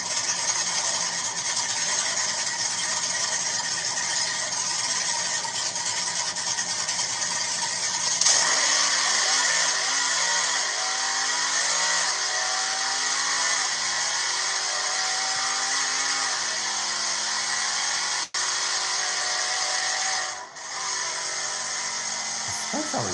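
Kyle Tingle's Dodge truck on a 10-second drag pass, a high, buzzing engine note rising in pitch again and again as it runs quickly through the gears, steady and moderately loud, with faint talk beneath.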